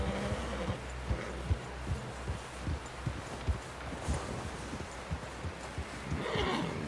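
Horse neighing and clip-clopping hooves in Red Dead Redemption 2, with a whinny over steady, repeated hoofbeats against a busy outdoor background; moderately loud and close.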